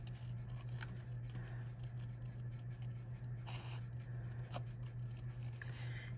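Scissors snip around the outline of a handstamped paper card, quiet irregular clicks and crisp cuts at close range over a steady low electrical hum.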